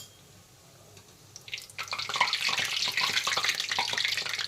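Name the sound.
karanji pastries frying and crackling in oil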